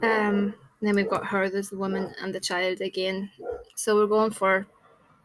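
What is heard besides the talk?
None of the usual background noises is heard.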